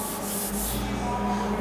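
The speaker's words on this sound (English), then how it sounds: "This is dry sanding." Dry sanding of the clear coat and a little paint on a 1967 Chevelle, with a steady close abrasive rubbing hiss that runs without a break under a low machine hum.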